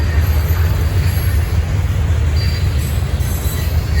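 Norfolk Southern freight train NS-16G passing at Berea, Ohio, a heavy continuous rumble of rolling railcars with high wheel squeal overhead, loud and close throughout.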